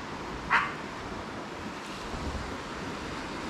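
A single dog barks once in the distance on a hidden beach in Phuket, Thailand, a short faint yelp over steady surf and wind noise.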